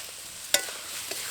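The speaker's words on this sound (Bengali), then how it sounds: "এখন এর মধ্যে ভেজে রাখা কাঁকড়াগুলো দিয়ে দেবো।" Fried crabs dropped into cooked masala in a pan for a Sundarbans-style crab curry, a single sharp clatter over a low, close sizzle, followed by a fainter knock.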